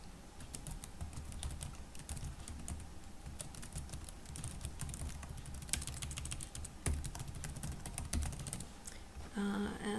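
Rapid typing on a computer keyboard, a dense, steady patter of close key clicks, with a slightly louder pause and restart toward the end.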